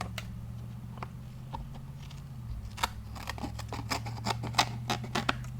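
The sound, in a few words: scissors snipping off extra pieces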